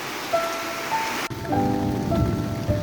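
Rain falls steadily, pattering on a surface, with a sudden brief cut midway before the shower resumes, a little heavier.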